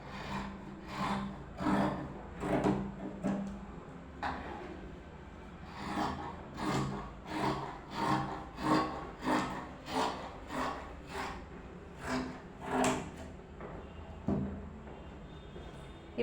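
Scissors cut through fabric for an umbrella skirt, a series of rhythmic rasping snips in close, quiet passes, with short pauses between cuts.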